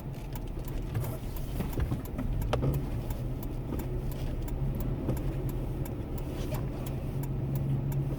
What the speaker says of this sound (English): Hazards on, first gear, pull out, reverse